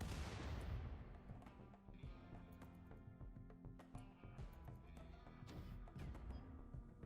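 Mortars firing in the colony game RimWorld, a rapid string of distant booms and crackling blasts that overlap into a rolling barrage, loudest at the start and continuing steadily throughout.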